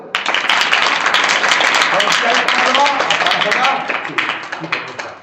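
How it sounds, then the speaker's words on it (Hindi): Students clap together in a classroom, a dense burst of applause that runs steadily for about four seconds and then thins into scattered claps at the end, with some voices mixed in. "ताली बजा दो।"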